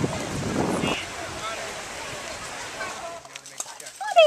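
Wind gusts across the mic on a beach at Cape Cod in July, a continuous rough, buffeting rush that eases slightly toward the end while people's voices come through.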